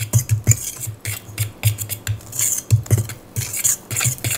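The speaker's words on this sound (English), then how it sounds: "So I'm just going to take a fork and combine everything." A metal fork scrapes and clinks rapidly against a bowl while mixing dry cookie ingredients, salt and cloves, a close, busy rhythm of tapping and stirring with no voices.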